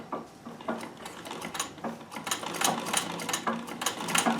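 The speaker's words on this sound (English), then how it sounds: "So it is, you know, it certainly sews well. It's a good experience to sew on. Works well. But it is no quiet machine" An old Davis vertical feed sewing machine runs with a loud, clattery rhythm, its metallic clacks repeating steadily and close by.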